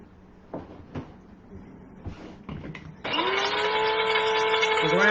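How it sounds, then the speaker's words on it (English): Sweetener is ground in a blender for a keto key lime cheesecake: a few knocks and clatters of handling, then the motor starts abruptly and whirs loud and steady with a high whine to the end. "I'm going to go ahead and grind this up, this sweetener up."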